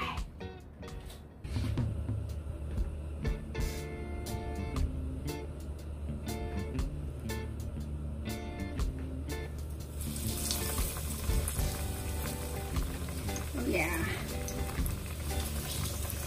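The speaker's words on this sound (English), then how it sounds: "we're gonna start to fry." Breaded zucchini hits hot oil in a pan and sizzles continuously, the frying growing brighter and fuller partway through, with clinks and movement nearby.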